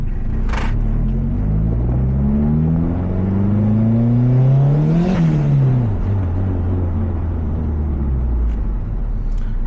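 A 1995 DSM car driving on a street, its engine rising in pitch as it accelerates, peaking midway, then dropping as the driver shifts and keeps cruising, steady and close throughout.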